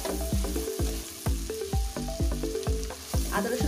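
Khichuri frying with ginger garlic paste in a pan, a sizzle under repeated scraping strokes of a spoon in a quick irregular rhythm, close and moderately loud.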